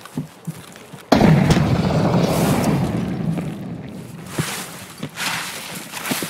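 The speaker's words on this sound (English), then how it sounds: "Grenade. Grenade." A grenade blast in an online multiplayer shooter, with a sudden loud boom whose low rumble lingers for several seconds and slowly fades under more game noise.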